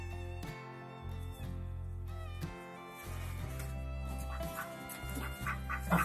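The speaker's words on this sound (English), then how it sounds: "That's the male Muscovy." Muscovy and Pekin ducks, including a large male Muscovy and a jumbo Pekin, in a new pen, giving a run of harsh, repeated honking quacks close up, loud and overlapping.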